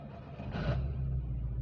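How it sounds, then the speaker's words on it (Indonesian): A 1991 Suzuki Amenity two-door car engine starts with a short cranking burst that settles into a low, steady idle rumble, heard close and fairly quiet. "ini adalah suara mesin dari Suzuki Amenity 2 pintu."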